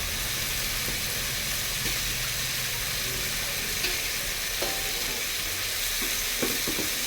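Small peeled potato pieces fry and get stirred in hot oil for a Tamil kulambu, giving a constant loud sizzle with occasional soft scrapes and clinks from the spoon.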